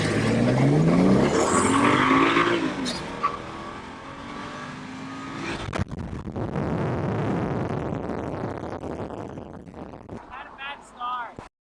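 A BMW X1 with all-wheel drive pulls away hard from a standing start in a race, engine rising loudly under excited talk before the roar settles into a steady drive with another car nearby.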